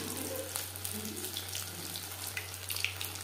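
Fish sizzling as it fries in hot oil over a low to medium flame, a steady dense crackle and hiss with scattered pops and no talk.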